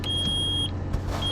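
A low air pressure warning for the air brakes of a truck in American Truck Simulator sounds as a steady, piercing electronic beep. The beep cuts out briefly and then resumes over a low engine drone.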